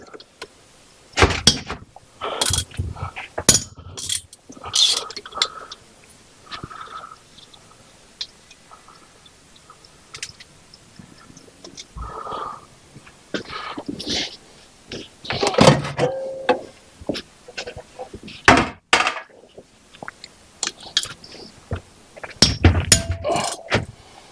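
Metal clanks, taps and scraping knocks come from the teardown of a 1966 Honda 305 Scrambler engine, irregular and close with short bursts and pauses throughout.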